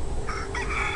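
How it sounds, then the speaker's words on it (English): A chicken calls in a short, loud burst at Normon Park, with a steady outdoor background and no speech. "That's a chicken."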